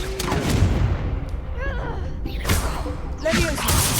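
A Confringo fire spell bursts in Hogwarts Legacy, with booming explosive hits and a crackling whoosh over continuous game sounds while a voice talks throughout.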